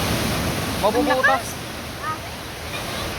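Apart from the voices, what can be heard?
strong sea waves at San Juan beach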